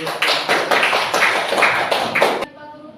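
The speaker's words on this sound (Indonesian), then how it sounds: "Mari kita berikan aplaus dulu." A class applauds with a burst of claps in a loose, rhythmic beat for about two and a half seconds, then stops abruptly.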